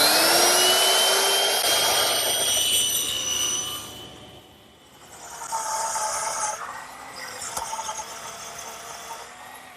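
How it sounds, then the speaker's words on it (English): A router with a 1/4 inch roundover bit cuts along the top edge of a wooden bookcase part, giving a loud, steady high whine. It fades out briefly midway, then starts again with a second pass. "to make it a little bit softer on the top edge, I'm just going to use a 1/4 inch rounding over bit"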